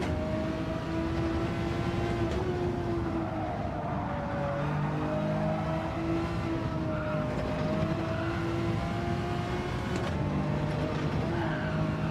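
A car engine revs hard through the gears during a time trial, shifting down to a lower gear for a corner, with steady loud engine drone and rising and falling pitch throughout.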